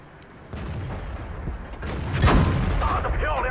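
Tank shells striking and ricocheting off armour in World of Tanks, a WZ120 battle on Kharkov, heard as a dense run of booming impacts and mechanical clatter that swells louder midway, with game voices murmuring underneath.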